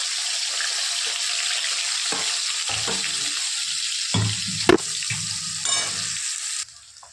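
Chopped onion and curry leaves hit hot oil for a tempering and sizzle loudly and steadily, with stirring clatter and a few sharp scrapes in the pan before the sizzle fades at the end.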